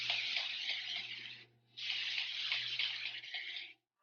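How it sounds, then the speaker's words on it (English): Water runs steadily from a tap while curly hair is soaked, a close, broad hiss with a brief pause in the middle and a low hum beneath, ending abruptly. "So I'm going to get my hair soaking wet."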